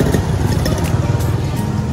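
Motorized pedicabs (becak motor) in busy night street traffic on Malioboro in Yogyakarta, a steady close engine rumble with a low pulsing putter, loud and continuous throughout.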